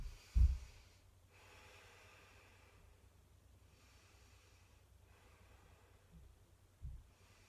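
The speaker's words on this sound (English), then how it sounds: "That breathing in and out of the nostrils." Slow, soft breathing in and out through the nostrils during a dynamic yoga flow, with faint airy inhales and exhales separated by quiet pauses and a couple of sharper nasal snorts.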